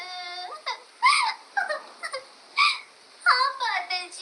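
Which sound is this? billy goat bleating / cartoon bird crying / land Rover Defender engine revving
cartoon bird crying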